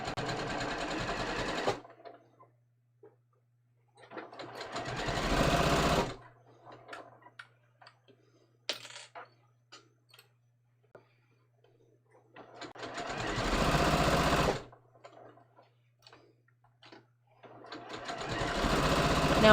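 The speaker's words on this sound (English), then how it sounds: "Now I am using a machine that has a built-in walking foot" A sewing machine with a built-in walking foot stitches a fabric pocket in three separate runs of fast, steady whirring. Faint ticks and handling noises fill the quiet gaps between runs.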